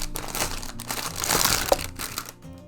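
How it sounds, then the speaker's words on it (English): Crinkly plastic wrapping torn and peeled off a pouch during an unboxing, a steady close crackle lasting a couple of seconds with one sharper snap near the end. "rip the plastic off"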